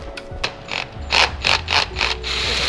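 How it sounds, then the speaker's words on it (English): A hand ratchet clicks rapidly in a run of sharp, close metallic ticks while loosening the top nut on a Subaru WRX strut assembly. "we're gonna go ahead and take off that final nut on top"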